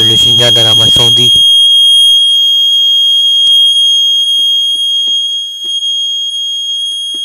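An AVISS EVAC type 2b fire alarm sounds a steady, piercing tone throughout, with faint clicks underneath after a brief burst of speech at the start.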